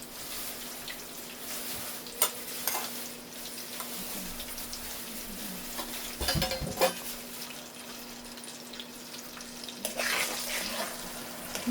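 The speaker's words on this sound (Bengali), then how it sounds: "মশলাটা সুন্দর করে কষিয়ে নেব।" Ground cumin, coriander and turmeric fry and get stirred in a curry pan, giving a low continuous sizzle with occasional scraping and stirring bursts, close by with a faint background hum.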